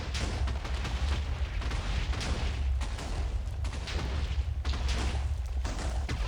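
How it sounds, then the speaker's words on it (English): Repeated explosions in the Minecraft video game, a dense continuous barrage of loud booms and blasts rolling one after another with no pauses, filling the whole stretch without speech. "we're going to stop the explosions from happening really quick here"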